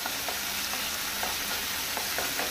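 Onion and tomatoes fry in a pan with a steady, fairly loud sizzle, overlaid by soft periodic scrapes of stirring.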